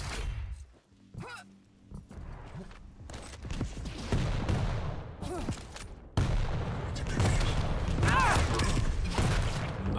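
Rockets firing during a Quake Champions match on a large map: a string of sharp launches and blasts over busy game noise and clanking movement, growing denser and louder toward the end.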